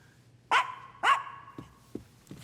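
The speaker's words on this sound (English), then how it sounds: "Those are my little dogs." Two small pet dogs give two sharp, close barks about half a second apart, followed by a few softer yips and whimpers, with no talking.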